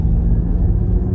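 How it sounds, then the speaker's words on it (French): The artificial propulsion sound of a Ford Mustang Mach-E electric car gives a steady, low synthetic hum inside the cabin while driving, constant and fairly loud, with no talking. "il y a le son de propulsion qui est activé"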